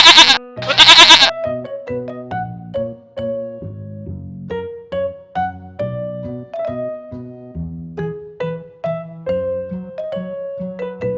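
A goat bleats in two loud, wavering bursts at the start, then a plinking tune of light notes carries on alone.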